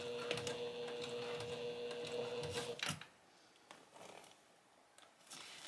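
A sewing machine stitching along a garment over a metal zipper, its fast steady mechanical whir running close for about three seconds before stopping, followed by quieter handling clicks.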